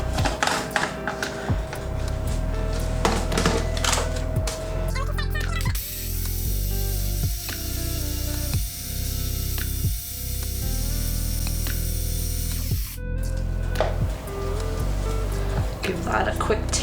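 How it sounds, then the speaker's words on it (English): A countertop blender whirs through a garlic, lime juice and red wine vinegar dressing for a falafel salad, a loud continuous motor roar after some clattering, with a brief pause and restart. "Then I'm gonna pop it on the blender."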